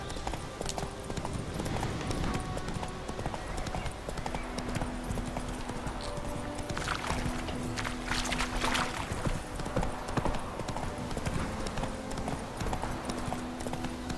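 Steady clip-clop of horse hooves trotting along a road in Witcher 3, rhythmic and continuous, with game ambience and faint background tones throughout.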